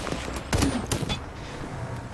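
Incoming gunfire in a shooter game: a few sharp, loud shots and impacts arrive in the first second, then fade to a low, quiet background hum.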